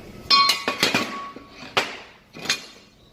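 Metal pieces clatter and knock sharply as a C-clamp tightens them together, several distinct close clinks and taps spread over a few seconds.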